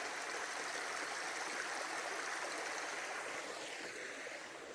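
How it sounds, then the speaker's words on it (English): A calm woodland stream runs down over rocks beside a trail, giving a steady, continuous rush of water that stays close and fairly loud throughout, with no voices. "The water running down there."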